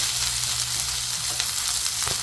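Chopped onion frying in an overheated wok (kadai), a steady dense sizzle with a low hum beneath and a couple of brief crackles, close and continuous with no voices.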